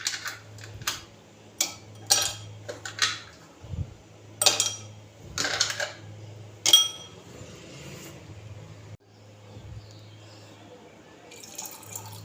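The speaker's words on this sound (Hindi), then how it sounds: "आइस क्यूब हम दोनों में डालेंगे।" Several ice cubes drop and clink one after another into glasses of fresh plum juice, giving a series of sharp, bright taps with short gaps between them, then a quieter stretch. A low steady hum runs underneath.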